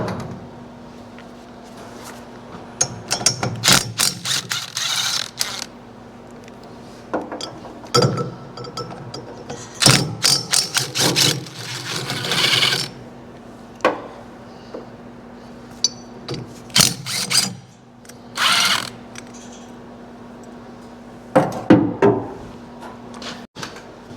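Wrench work on a snowmobile: a series of metallic clinks, ratcheting bursts and tool clatter come in irregular clusters close by, with quiet pauses between them and a faint steady hum underneath.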